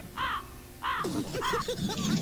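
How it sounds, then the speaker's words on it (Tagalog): A crow caws several times, harsh and fairly near, as a voice murmurs quietly underneath. "May uwak na."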